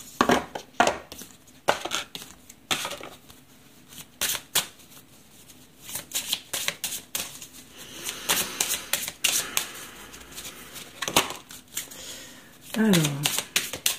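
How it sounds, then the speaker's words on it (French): Fairy oracle cards are shuffled and drawn, giving crisp riffling, flicking and tapping sounds in irregular bursts, close up, while someone talks intermittently. "on va prendre une carte de l'oracle des fées"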